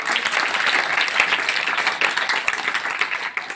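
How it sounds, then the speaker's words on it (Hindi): An audience claps steadily throughout, dense applause honoring a scholarship examination winner at an award event, sustained and fairly loud with no break. "चलिए एक बार फिर इनका ताली बजाकर इनका उत्साह बढ़ाइए।"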